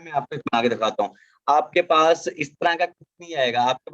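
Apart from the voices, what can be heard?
None of the usual background noises is heard.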